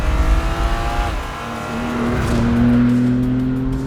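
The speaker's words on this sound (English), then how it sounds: "I'm really impressed by the sound this car makes." A BMW M3 CS Touring engine revs hard and close, its pitch dropping at a gear change and then climbing again in a steady, loud roar, with faint tire noise.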